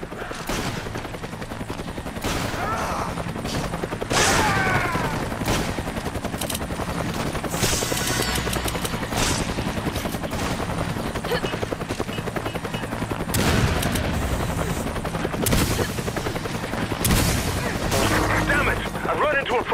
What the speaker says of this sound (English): Gunfire! Almost there!